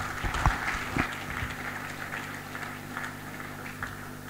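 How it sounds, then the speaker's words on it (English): An audience at a university final-year NSS orientation applauds a presenter, with moderate clapping and a few sharp individual claps over a steady low hum. "A better round of applause for him."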